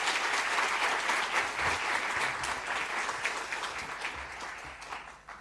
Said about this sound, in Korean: 먼저 우리 뜨거운 박수로 한번 환영하겠습니다.